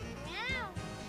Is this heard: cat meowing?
yes